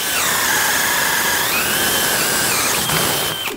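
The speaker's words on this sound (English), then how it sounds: "I'm going to drill a 3/4 inch hole in the adjacent stud." A power drill bores a 3/4 inch hole through a wooden wall stud in a bathroom, a loud, steady, close whine and grinding roar that runs continuously and tapers off at the end.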